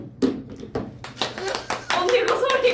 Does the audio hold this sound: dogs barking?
no